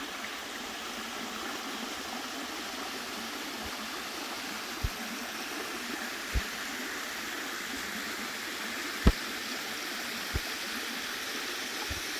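A stream in the Blue Mountains, at Horseshoe Falls Reserve, flows steadily with a constant broadband rush of water, punctuated by a few faint clicks and knocks, with no voices.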